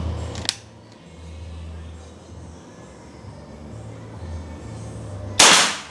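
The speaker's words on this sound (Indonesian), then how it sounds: "kita coba lagi tembakan yang kedua" A Bocap Hacker 500cc double-tank PCP air rifle fires a single sharp shot close by, preceded by a small click and followed by a brief fading tail over low background hum.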